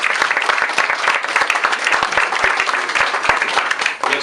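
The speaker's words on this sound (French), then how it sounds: "Je vous demande d'applaudir l'équipe qui a bien travaillé." A crowd at the inauguration of a campaign office applauds the decorating team, a close, dense clapping with a few sharp individual claps standing out, sustained throughout.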